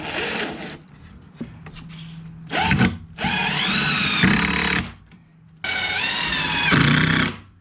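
A power drill driving screws into a wooden DIY skateboard grind box, loud whirring bursts of several seconds each that bog and stop between screws, close and with no talk.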